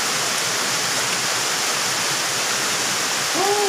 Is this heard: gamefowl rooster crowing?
no